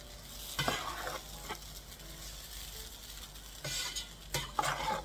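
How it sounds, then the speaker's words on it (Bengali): Poha pulao stirred in a pan, with a spatula scraping and rustling in a few distinct bursts over a soft background sizzle. No one speaks. "এবারে আমি একটু নাড়িয়ে দিয়ে ভালো করে"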